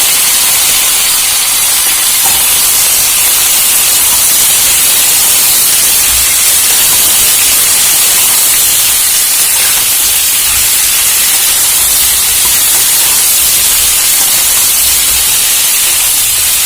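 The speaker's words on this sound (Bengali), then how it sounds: "দেখুন এটা ভাজা হয়ে যাচ্ছে" Fish sizzling steadily in hot oil in a Bengali village kitchen, with ridge gourd and potato pieces added to the pan for a light fish curry; a loud, continuous hiss and crackle with no talking.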